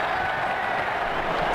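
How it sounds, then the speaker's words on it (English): A video-game cricket crowd in Ashes Cricket 2009 applauds a shot with a dense, steady wash of clapping and crowd noise through the whole brief moment. "The crowd really enjoyed that one."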